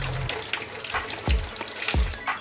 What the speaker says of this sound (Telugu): సరే చూడండి, ఇది వాటర్ వస్తుంది కదా